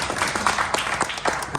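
Brief applause from a church congregation at a Christmas Sunday service, made of close, distinct individual claps in an uneven burst that lasts only a moment.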